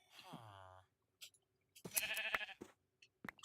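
A sheep in a video game lets out a clear bleat with a falling, wavering tone after taking damage, followed by sharp hit and game effect sounds with short silences between them.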